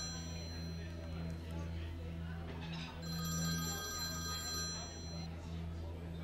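A telephone rings in a steady repeating pattern over a low background hum, fairly faint and with no voices.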